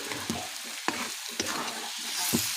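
Vegetables with coriander-cumin powder and ghee are stirred in a hot pan, a soft sizzle under several distinct scraping strokes of a spoon at irregular intervals, close and fairly quiet.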